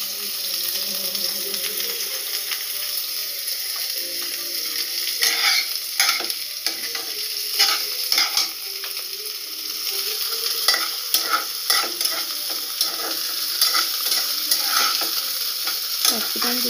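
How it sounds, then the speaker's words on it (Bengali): Chopped capsicum added to frying beans sizzles steadily in a pan while a spatula scrapes and knocks against the metal in irregular stirring strokes, heard up close with no talking. "ক্যাপসিকাম কুচোগুলোকেও ভালো করে ভাজতে থাকবো।"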